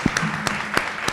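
An audience at a mock trial awards ceremony claps, with a few sharp, separate hand claps standing out from a sparse, light patter of applause.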